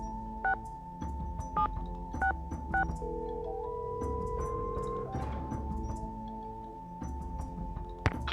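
Telephone keypad tones beep in short separate bursts in a Nancy Drew video game, then a steady ringing tone follows, quiet and clean against a faint background.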